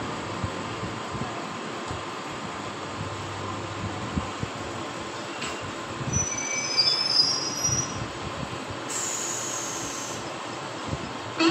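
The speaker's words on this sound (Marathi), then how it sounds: "local arrived on platform number 1" A 12-car slow local train rolls into platform 1 at Kalyan with steady rumbling and hiss, and high metallic wheel squeals rise midway before fading, with no voices.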